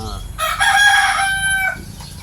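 A Texas gamefowl rooster, about 85% Texas blood, gives a single loud, close crow lasting over a second, rising and holding before trailing off against a low background hum.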